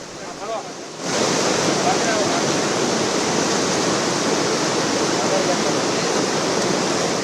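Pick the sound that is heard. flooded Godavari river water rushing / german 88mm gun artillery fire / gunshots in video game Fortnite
flooded Godavari river water rushing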